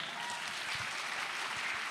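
A crowd at an Indonesian public gathering claps briskly, a thick continuous wash of hand claps that stays loud and even throughout, with no speech over it.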